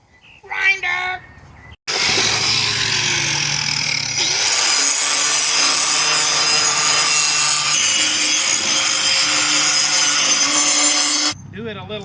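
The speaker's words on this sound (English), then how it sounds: "Grinder." A bench grinder sharpens rotary lawn mower blades, a loud continuous abrasive grinding and scraping for about nine seconds after a short spoken word, with the pitch shifting slightly as the blade is worked.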